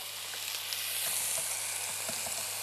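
Marinated beef searing in a dry griddle pan gives a continuous hissing sizzle with faint crackles, close up, no talking.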